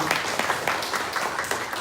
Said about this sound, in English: Round of applause for the organizers making this happen.